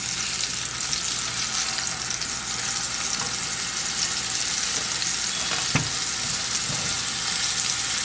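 Salmon sears in a hot pan, a dense continuous sizzle with a couple of brief clanks from handling, no talking.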